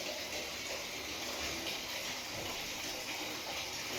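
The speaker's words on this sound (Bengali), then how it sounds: "ফুলের গাছে জল দিব।" Water splashing steadily onto flower plants in a continuous broadband rush, close and even throughout with no pauses, while a faint voice sits low underneath.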